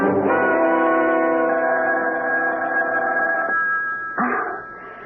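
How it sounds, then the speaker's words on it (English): A telephone rings at three in the morning in a 1977 radio mystery drama: one long, loud, steady ring with no other sound, then a pause and a shorter burst of ringing. "Wake up. The phone. Yeah, phone. Oh, my gosh, it's 3 in the morning. Answer it, Maynard."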